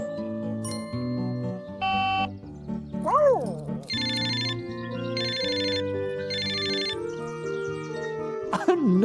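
A telephone ringtone plays a bright electronic melody in repeating bursts, with a voice and sliding tones in the background.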